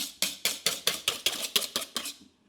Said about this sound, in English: I've been whipping for around 5 minutes and it's still not quite there yet, so continue whisking